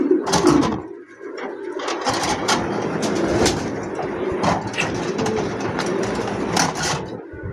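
Pigeons of local and foreign breeds, a mated male and female pair, coo steadily and close by, with a dense murmur of other birds and flapping throughout.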